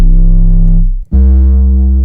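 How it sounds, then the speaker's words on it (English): An 808 bass made from a sine wave with a flanger added, a loud sustained buzzy tone with a swirling, sweeping shimmer, dropping out briefly near the middle before coming back just as strong. "So another thing, you can add a flangus to it."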